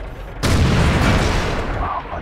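A tank cannon fires in World of Tanks while driving a T29, one sudden loud boom that rings out and fades over a couple of seconds, with no talk.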